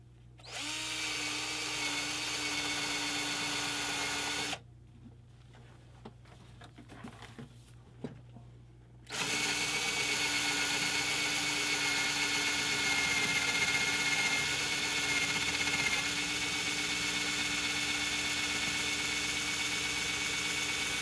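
A hand drill bores through wood for resin jewelry making, a steady whirring drone running for several seconds, cutting out briefly, then resuming loud and continuous to the end.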